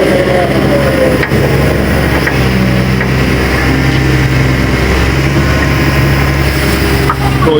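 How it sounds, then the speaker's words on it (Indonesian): A dump truck engine rumbles at a river cleanup in Kali Pengkolan, a loud, continuous low diesel drone with steady mechanical hum throughout, close by and without pause. "Tuh ya dump truck, padahal yang ini aja belum selesai tuh, udah muncul lagi aja tuh ya di belakang."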